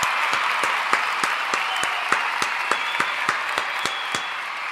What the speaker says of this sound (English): That is a fucking round of applause right there for David Thiering